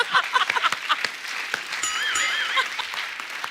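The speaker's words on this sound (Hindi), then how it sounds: "और एक बार जोरदार तालियां हो जाएं अजय सर और काजल मैम के लिए।" Audience at a Bollywood promotional event applauding Ajay Devgn and Kajol: dense, steady clapping throughout, with a brief shrill whistle partway through.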